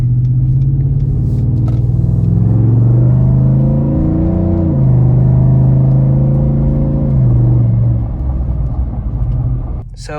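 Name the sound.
tuned pickup truck driving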